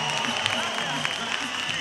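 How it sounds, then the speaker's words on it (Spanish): Applause from a crowd at the opening of a carnival festival in Fuenlabrada, a soft distant patter of clapping under a faint steady hum. "¡Un aplauso para ellos!"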